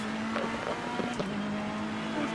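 Race cars launching from the start at Monza in Assetto Corsa Competizione, a steady, loud engine drone holding one pitch throughout with faint mechanical clicks layered over it.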